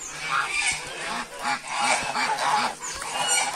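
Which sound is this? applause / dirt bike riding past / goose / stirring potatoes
goose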